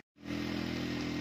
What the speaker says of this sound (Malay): Ada sebiji motor lalu.